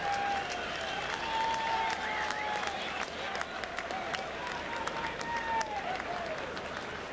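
Racegoers at a National Hunt horse race applaud and cheer jockey Jimmy Frost after Morley Street's win, a dense, sustained roar of clapping with a race commentator talking over it throughout.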